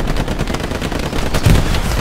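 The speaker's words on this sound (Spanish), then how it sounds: "¡Qué pedazo de disparo me comí!" Rapid video-game gunfire from a sniper and other shooters, a loud continuous burst of cracking shots with a heavier impact near the end, filling the whole stretch.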